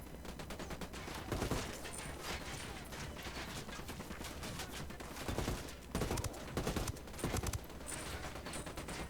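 Rapid bursts of automatic gunfire in Ghost Recon Wildlands rattle almost continuously, with clustered louder volleys standing out amid a dense, busy battle soundscape.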